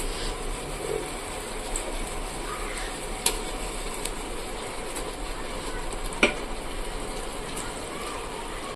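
Chicken leg pieces are stirred into yogurt in a pot for chicken biryani, making a continuous soft, wet scraping and sizzling texture with a few sharp clinks of a utensil against the pot, close up.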